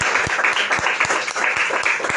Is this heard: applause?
yes